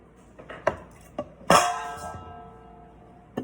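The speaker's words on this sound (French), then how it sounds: "Alors là, je vais mélanger." A spoon clinks against a bowl while mixing a fluffy slime of glue and shaving foam, with a few sharp taps early on and one louder scrape-and-clatter that rings briefly, then a last tap near the end.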